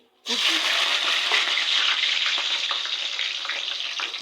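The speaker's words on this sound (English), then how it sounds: "allow it to fry. Yeah, it's frying, you can see." Food sizzles and crackles loudly in a hot pan, starting abruptly and continuing steadily with small pops throughout.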